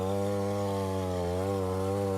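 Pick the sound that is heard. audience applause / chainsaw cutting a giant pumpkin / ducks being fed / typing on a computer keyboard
chainsaw cutting a giant pumpkin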